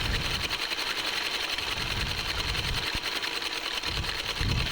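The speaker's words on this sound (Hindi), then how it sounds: "मैंने इसे घुमाते हुए ही सिलाई लगाई है" A sewing machine runs steadily, stitching a decorative design around the hem of a salwar as the fabric is turned, with a continuous loud whir and no voices.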